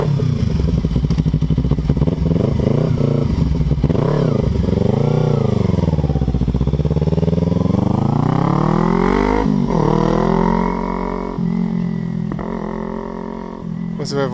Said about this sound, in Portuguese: Vai, Lucão, test drive com a Ninjinha.